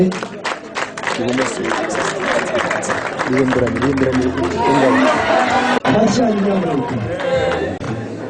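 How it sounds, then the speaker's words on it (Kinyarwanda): Steady applause from a large audience with crowd chatter and cheering mixed in, a voice speaking over it throughout. "Abatarami baze gukoma amashyi menshi cyane"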